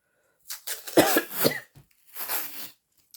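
A burst of several close coughs in quick succession, then a pause and a longer, raspier cough or throat clearing.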